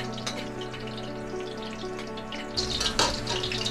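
Thick-sliced ginger sizzles in a hot pan with oil, a soft steady frying hiss that grows a little louder and crackly near the end, with no talking.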